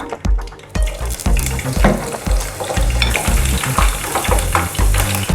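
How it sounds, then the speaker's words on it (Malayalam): Green chilies drop into hot frying oil for restaurant-style beef chilli and set off loud, steady sizzling broken by rhythmic stirring scrapes, all close by. "ഫ്രൈ ചെയ്യാനായിട്ടുള്ള എണ്ണ ചൂടായിട്ടുണ്ട്. അതിലോട്ട് നമുക്ക് പച്ചമുളക് ഇട്ട് കൊടുക്കാം"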